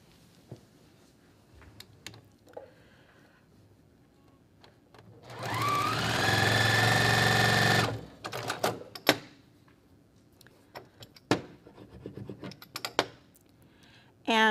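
A sewing machine runs steadily for about three seconds, stitching pieced Ohio Star quilt block fabric, then stops; faint handling clicks and light taps follow before and after the burst of stitching.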